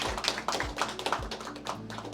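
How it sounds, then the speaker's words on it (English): Scattered audience applause at an FCNCC business networking event, a modest round of claps and taps, fairly close and thin rather than a full crowd roar. "Let's keep the applause coming"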